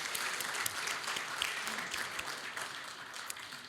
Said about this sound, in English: One more round of applause for Dr. Roberts and all of our speakers tonight.